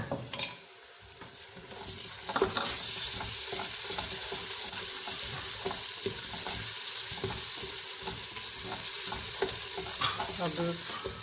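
Ginger and garlic frying in a pan for aloo gosht, a steady loud sizzle with repeated scraping stirs running throughout after a quieter opening.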